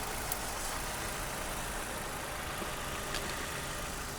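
A 1600 petrol car engine idles after being jump-started with a Hulkman jump starter, producing a steady, even mechanical hum at moderate loudness for several seconds with no voices over it.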